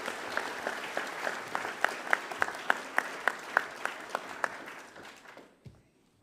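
School prize-giving audience applauding the Year 12 award presenter, a sustained wash of many hands with distinct sharp claps standing out, fading away toward the end.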